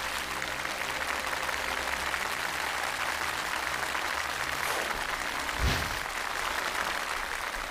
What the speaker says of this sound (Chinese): 我们也再次掌声祝福他们。